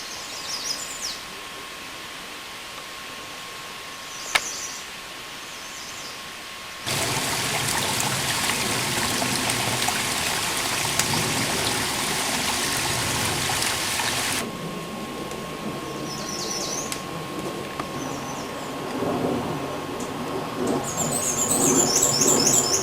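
A river flows past a group campsite on the Appalachian Trail in Connecticut. A steady rushing wash swells in abruptly, holds loud for several seconds, then drops back to a quieter outdoor hush with faint bird chirps.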